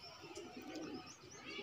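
Pigeons coo softly in a short, low burble, heard close up but faint.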